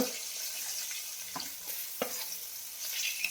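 Hilsa fish tails frying in a kadai, a soft continuous sizzle with a few brief stirring scrapes and clinks, close and moderately quiet, no talking.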